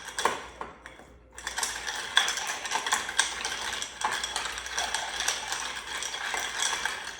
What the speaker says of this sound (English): We're gonna put some ice in here and give it a good stir.